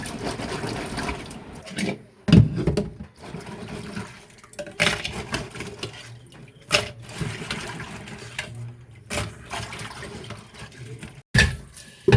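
Crabs being rinsed by hand in water for a Kerala crab curry, with irregular sloshing and splashing and a few sharp knocks and clatters from the washing vessel.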